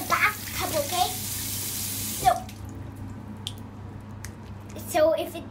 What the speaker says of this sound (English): wash your face. Here in the sink, okay?